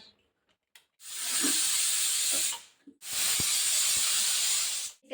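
A pressure cooker whistle on a kitchen stove, cooking mixed sprouted-pulse usal, lets out two strong bursts of hissing steam, each lasting a second or two with a short pause between, loud and close.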